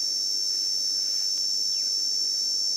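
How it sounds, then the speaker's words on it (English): A cicada shrills continuously in the South African bush during a morning safari, a loud, steady, high-pitched drone heard from about a meter away, with no talking. "And that is the beautiful shrilling noise made by a cicada or cicada."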